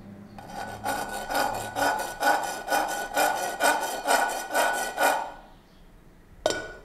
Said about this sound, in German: Kleine Unebenheiten werden mit der Feile abgeschliffen.